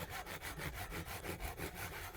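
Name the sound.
hand saw sawing wood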